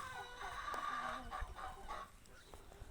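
Two roosters offered for sale alongside turkeys cluck and squawk close by in a busy farmyard, with several overlapping calls and bursts of clucking over a noisy background.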